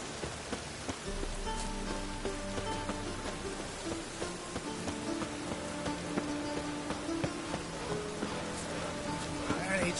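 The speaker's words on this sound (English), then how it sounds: "raining again." Steady rain patters on a surface throughout in the video game The Witcher 3, a constant wash of drops with faint tonal music and occasional soft voices underneath.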